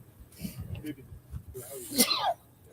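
A single sharp sneeze bursts out near the end, preceded by quiet breathy sounds and movement.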